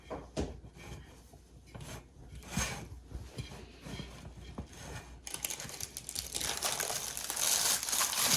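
Parchment paper crinkles and rustles as a baked focaccia slides off it, the crackling growing louder and denser toward the end, close up and with no talk.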